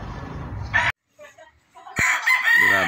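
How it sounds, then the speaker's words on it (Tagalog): A chicken, apparently a rooster with mosquito-bite sores on its face, gives short clucking and crowing calls close by, broken by a brief pause and a sharp knock. "Grabe itong manok na ito."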